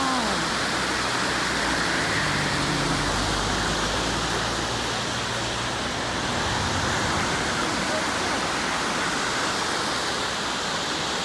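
A waterfall in Spearfish Canyon roars as a steady, dense rush of falling water, loud and close and unchanging, with a brief voice talking at the start.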